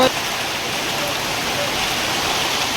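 A steady roar of heavy rain in Daringbadi pours down without pause, a thick even wash of noise heard close up, with no talking over it.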